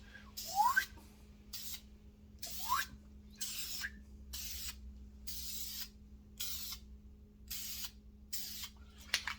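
Short bursts of a spray can misting metallic paint onto a Chevy Rally wheel, about nine quick hisses in a steady rhythm, close and fairly clear over a low steady background hum.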